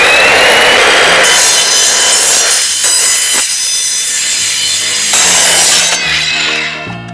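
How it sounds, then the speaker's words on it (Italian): A roller shutter winding tube being sawn to a length of 3.03 metres: a loud, continuous, rasping cut that runs steadily throughout and tapers off in the final moments. "come prima cosa taglierò il rullo avvolgitore della tapparella a una lunghezza di 3 metri e 3 centimetri"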